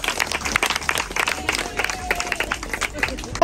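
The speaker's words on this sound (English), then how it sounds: "Let's clap." An audience at a school event claps loudly and steadily throughout, with crowd murmur and voices mixed in among the claps.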